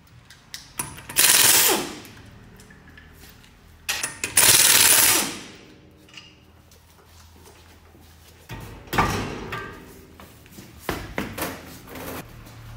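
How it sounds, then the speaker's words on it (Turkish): An impact wrench loosens a car's wheel nuts in a workshop ahead of automatic transmission repair, firing in loud rattling bursts of a second or two, separated by clunks and quiet gaps. "Yavaş yavaş aracımızın tekerlerini alıyoruz."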